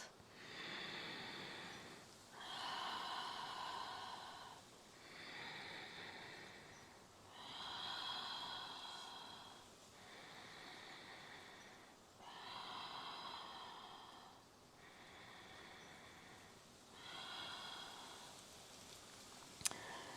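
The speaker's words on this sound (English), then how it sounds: "just hanging out here for a couple of deep breaths" Slow deep breaths during a tension-release stretching exercise, about eight long airy inhales and exhales in steady rhythm, close and soft with no talking.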